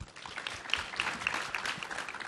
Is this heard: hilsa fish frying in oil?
no